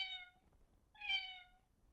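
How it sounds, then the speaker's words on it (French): A pre-recorded cat meow from an AnyBook reader's sound effects, two clear, fairly faint meows about a second apart, heard alone. "Par exemple, ici le chat,"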